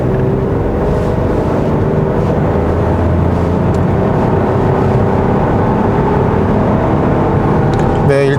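A 2020 Chevrolet Trailblazer E-Turbo all-wheel-drive SUV pulls away from a stop, its engine note steady and rumbling from inside the cabin for several seconds, with faint voices in the background.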